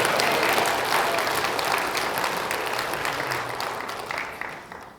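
Church congregation clapping together during a Sunday worship service, a dense, steady burst of applause filling the room that gradually tapers off over several seconds.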